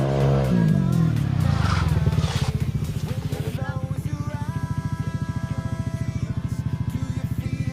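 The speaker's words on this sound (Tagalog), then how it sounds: "Testing muna natin yung motor ni boss." A motorcycle engine is test revved at a roadside mechanic's in Quezon, first a loud rising rev, then a steady, close, rapidly pulsing idle, with people talking nearby.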